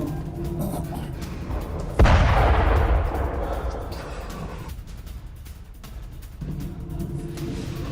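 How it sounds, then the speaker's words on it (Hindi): Air defense over Kyiv fires interceptor missiles, and one loud sudden boom with a long rolling rumble breaks through a constant background roar, with more distant thuds following. "एयर डिफेंस ने यहां पर इंटरसेप्टर मिसाइल दागी है"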